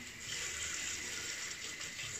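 Water poured out steadily from a container during shaving-soap brush preparation, a continuous close splashing rush that lasts the whole moment without any voices.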